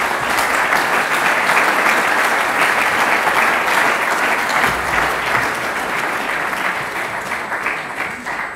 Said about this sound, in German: jetzt können wir für das Podium großen Applaus